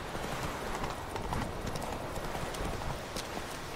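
A horse's hooves clip-clop continuously in The Witcher 3: Wild Hunt video game, a fast even trot set against a dense, steady wash of ambient noise, with no voices.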